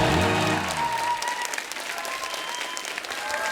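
Loud, steady applause from the studio audience of The Kapil Sharma Show, a Hindi comedy talk show, a dense crowd clapping continuously throughout, with a musical sting fading under it at the start.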